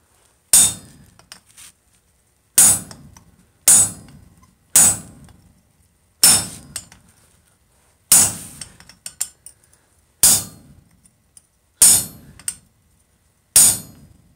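Hammer striking a chisel on hot forged steel while shaping a chased bottle opener, eight or nine sharp ringing blows at uneven intervals, close and loud, each followed by short clinks.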